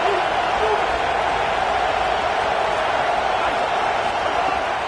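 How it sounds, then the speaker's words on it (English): A packed stadium crowd roars in a College Football 27 game, a dense, unbroken wall of cheering that holds steady throughout, with a commentator's voice over it. "This crowd, full throat, splitting the eardrums and letting them know it's going to be a long day."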